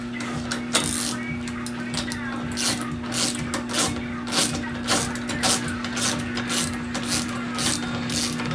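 A nut being tightened onto a scooter peg axle gives a run of dense clicking, ratcheting taps at close range, steady over a constant low hum.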